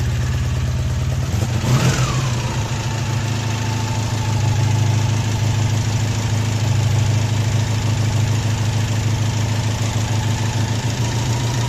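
A V4 engine idling steadily, a loud, even low rumble with a continuous mechanical hum and one brief rev-like surge near the start before it settles back to a constant idle.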